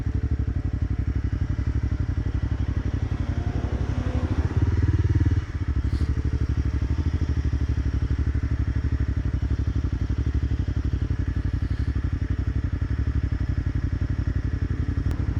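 A 2017 Kawasaki Z125 Pro motorcycle being ridden, its small engine droning steadily and loudly throughout, with a brief dip in pitch partway through as the throttle shifts, close to the rider.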